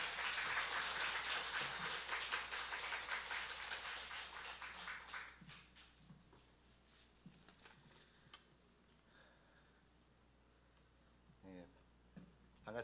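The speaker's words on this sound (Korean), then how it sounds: "우리 박수로." Congregation applause at a Sunday church service welcoming a pastor, a dense round of clapping filling the first few seconds, then thinning into scattered claps and fading, leaving quiet room tone with a few faint sounds.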